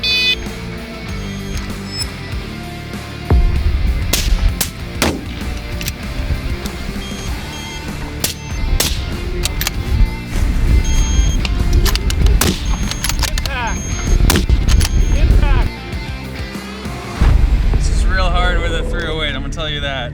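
Rifle shots ring out at a PRS precision rifle match, with several sharp, loud reports spaced irregularly across the stretch. People talk throughout, and some handling noises come between the shots.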